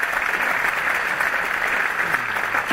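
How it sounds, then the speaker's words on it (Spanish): A dense, even round of audience applause fills a conference hall at an innovation event, sustained and fairly loud throughout, with no voices over it. "Le damos un fuerte aplauso a Muriel Balbi."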